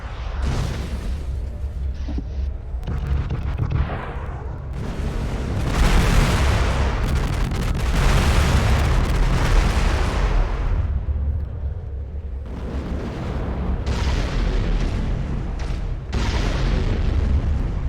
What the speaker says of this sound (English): Missiles, missiles, missiles.